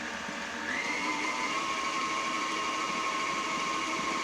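An electric mixer works a batch of Danish dough with a steady, close whirring hum that steps up in pitch and loudness just under a second in, then holds.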